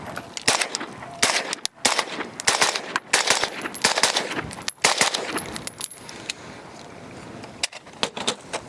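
HK416 piston rifle fired on an outdoor range, a rapid series of sharp, loud close shots in quick bursts with brief gaps between strings.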